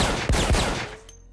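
Gunfire in a French action film, two sharp loud shots in quick succession close by, followed by a ringing tail and quieter ambience.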